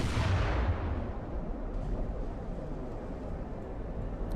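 Deep boom of naval artillery fire from warship turrets in Ultimate Admiral: Dreadnoughts, a heavy low blast at the start that rolls away into a long fading rumble.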